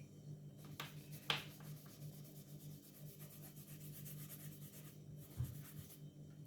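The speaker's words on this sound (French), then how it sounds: "comment je lisse un peu le crayon aquarellable" A watercolor pencil rubbing and scratching across paper in close, quiet strokes, with a few sharper scrapes, heard alone with no talking.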